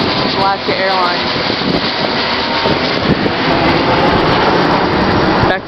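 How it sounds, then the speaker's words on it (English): A steady, loud broadband roar of an Alaska Airlines airplane overhead, with wind buffeting the microphone throughout and faint voices mixed underneath. "And then there's an airplane."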